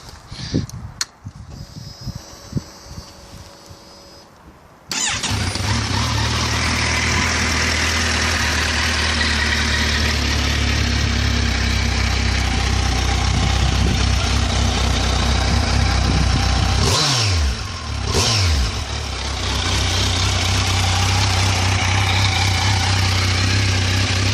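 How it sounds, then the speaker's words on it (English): After a few seconds of quieter handling sounds, a 2015 Kawasaki Versys 1000 motorcycle engine starts and settles into a loud, steady idle, rumbling close by with a brief dip partway through. "Now let's turn the engine on and listen to the beast."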